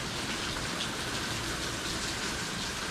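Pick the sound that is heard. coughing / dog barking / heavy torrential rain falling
heavy torrential rain falling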